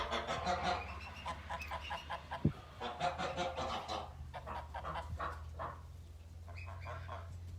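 Farm geese, including females expecting goslings, give repeated honking and clucking calls at moderate distance, fairly soft and overlapping in a loose, irregular chatter.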